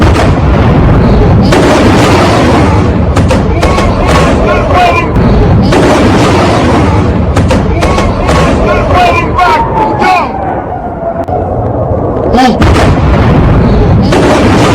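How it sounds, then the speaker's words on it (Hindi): Repeated heavy booms from Israeli missile strikes landing in Iran near a mosque, one after another in quick succession, loud and rumbling under a constant noisy din with crowd babble and a news voice. "सुबह होते ही, आंख खुलते ही इजरायली मिसाइल ईरान पर गिर रही।"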